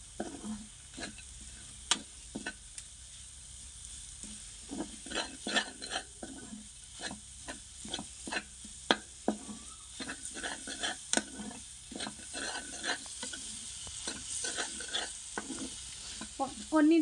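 Raw mango chutney cooking with jaggery in a pan, a soft continuous sizzle under repeated close spoon scrapes and stirring taps at an irregular pace, no talk.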